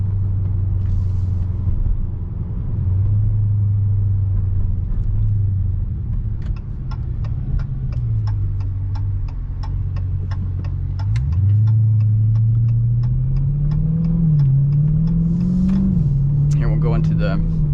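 A 2020 Dodge Challenger Scat Pack with paddle shifters accelerates on a highway, its engine a steady loud rumble that climbs in pitch through the gears with road noise, under someone talking.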